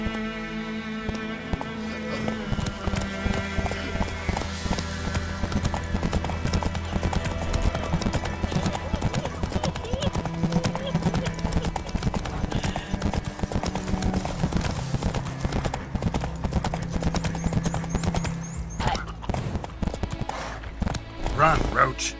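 Steady rhythmic clip-clop of a horse galloping in The Witcher 3, hooves pounding continuously at game volume over layered music and ambience, with brief spoken commands and an occasional whinny.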